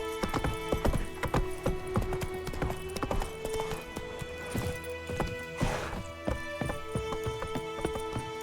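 A horse gallops in The Witcher 3: Wild Hunt, its clip-clop hoofbeats steady, rhythmic and close, carrying on through the whole stretch over a tonal game backdrop.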